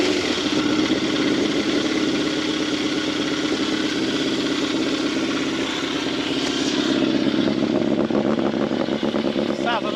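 A Yamaha FZR 600 motorcycle, its carburettors just refitted, runs on full choke after a cold start, a close, loud, steady idle with a busy, uneven patter that rises slightly toward the end, while a voice talks over it.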